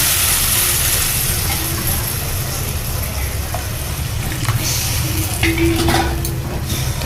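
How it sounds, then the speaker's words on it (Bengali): Cooked-down spice masala sizzles loudly in a pan as gravy goes in, with a dense continuous hiss and scattered clinks and scrapes of stirring close by. "মশলা কষানো হয়ে গেছে, এবার ঝোল দেওয়ার পালা।"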